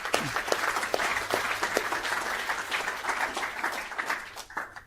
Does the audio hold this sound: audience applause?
yes